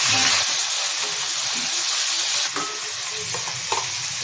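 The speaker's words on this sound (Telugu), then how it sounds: "టమాటాలు బాగా వాడాలి" Tomatoes frying in a pan with onions, green chilies and curry leaves for a brinjal curry, giving a loud, continuous sizzle with a few scraping stirs near the end.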